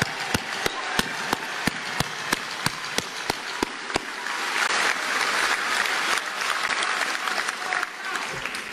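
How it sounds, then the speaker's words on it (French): An audience at a speaking event breaks into steady applause, with a few sharp individual claps up front before the clapping thickens into a dense, continuous patter. "bel applaudissement quand même."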